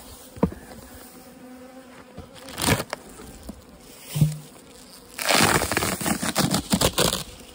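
Honeybees from a late-season bulk split colony buzz up close, a steady hum broken by louder swelling bursts as the hive is worked, with no voices.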